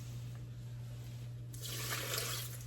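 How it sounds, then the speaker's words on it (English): About six ounces of water poured in to start a homemade vanilla bean paste: a soft, steady splashing pour begins midway after a quiet low hum and runs to the end, close by with no talking. "So we put water in."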